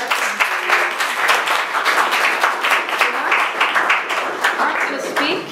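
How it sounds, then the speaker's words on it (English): Audience at a talk on pushing back the alt right gives a quick round of applause, dense, lively clapping from a room of people sustained for several seconds, with a voice faintly over it. "just a quick round of applause"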